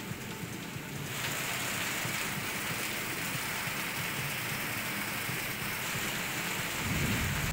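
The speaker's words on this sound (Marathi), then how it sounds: "सांगलीतील विटा शहराला पावसाने झोडपून काढलाय" Heavy rain pours down over a town in a dense, continuous hiss that thickens after the first second, steady and close, with no voices.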